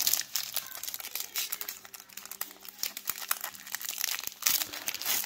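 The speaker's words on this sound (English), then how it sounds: "Rip the packs." Crinkly foil trading card packs being torn open and handled, close crumpling and ripping with sharp tears and rustling, no talk.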